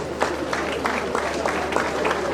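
Applause for newly inducted engineering graduates at an induction ceremony, many hands clapping steadily together as a crowd for a couple of seconds, with talk mixed in.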